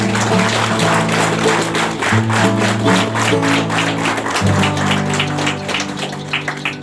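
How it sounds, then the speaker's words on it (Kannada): An audience applauds at a cancer hospital inauguration, steady scattered clapping from many hands going on throughout, heard moderately loud under sustained instrumental music tones. "ಎಲ್ಲರೂ ಚಪ್ಪಾಳೆ ಹೊಡೀರಿ ಆ ತಾಯಿ"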